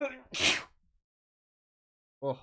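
A single sharp sneeze close to the microphone during a game session, preceded by a short spoken exclamation and followed after a pause of silence by another brief voice.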